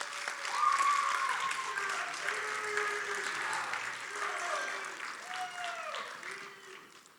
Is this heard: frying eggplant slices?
no